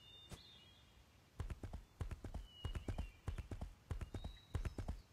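Horse hooves clip-clop in a steady rhythm as a character rides in the video game Age of Wulin, the clear, close beats repeating throughout with no talk over them.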